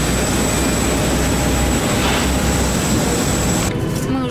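A loud, steady roar of airplane engines and cabin air fills the space inside an airliner as passengers board at night. The noise is continuous and close, easing slightly at the very end.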